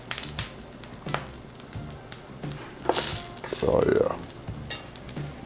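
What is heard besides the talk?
plantains frying in a pan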